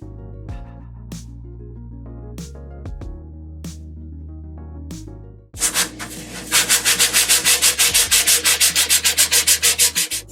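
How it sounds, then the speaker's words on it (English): Scattered scrapes and taps, then a run of rapid, rhythmic rubbing strokes of sandpaper by hand on an art doll, close and fairly loud. "I think I will actually do a little bit of sanding today."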